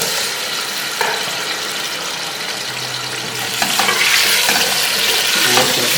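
Beef pieces for nehari going into hot oil in a pot, a continuous bright sizzle with scraping and stirring clatter that grows fuller partway through, close by with no voices.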